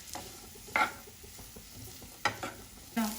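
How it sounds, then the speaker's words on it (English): Onion sautéing in a pan for palak paneer, with a steady soft sizzle and a few sharp scrapes as it is stirred, close and fairly quiet with no talking. "Now we are going to saute the onion for some time, like 3 to 4 minutes."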